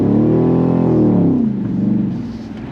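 A car engine revs loudly as the vehicle pulls away for a run-up on a remote island track, the pitch climbing and then settling into a steady, nearby drone.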